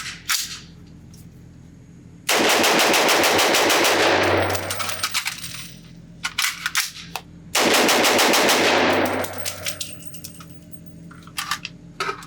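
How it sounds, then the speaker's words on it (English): A CMMG Mk4 Dissent rifle fires two long, rapid bursts of shots on a range, loud and close, each burst lasting a few seconds and followed by scattered single shots and clinking of falling brass. "I can shoot this gun pretty fast, and this trigger is awesome."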